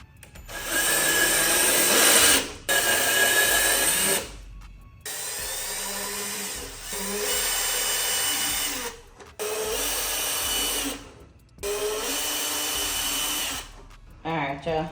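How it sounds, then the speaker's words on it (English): A power drill whirs while drilling holes, in several bursts of a few seconds each, separated by brief pauses, loud and close. "what I'm gonna try to do is just drill right in the center of the hole there"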